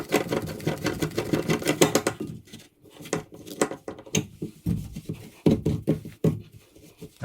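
A drum auger snake cranks in a clogged bathtub drain, giving a dense run of quick rattling, clicking pulses up close that breaks off midway and then resumes in shorter bursts.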